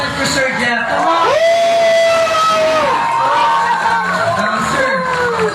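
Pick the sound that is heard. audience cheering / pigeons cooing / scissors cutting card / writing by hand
audience cheering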